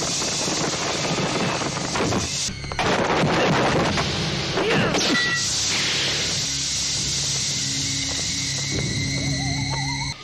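A jiangshi horror film scene in which a sorcerer's drum blasts mummies apart: loud, booming explosions and rushing, crackling bursts with heavy low rumble, stacked in quick succession and then trailing off into a steady roar.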